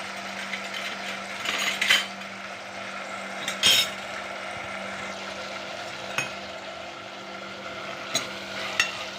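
Spiced cluster beans frying in oil in a pan, a steady low sizzle with a few brief clinks of a utensil against the pan, no voices.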